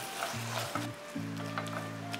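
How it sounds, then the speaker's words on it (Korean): Aged, well-fermented kimchi stir-fries in a pan over high heat. A steady, soft sizzle hisses throughout beneath a few sustained tonal notes. "강불에 수분이 날아갈 때까지 볶아주세요."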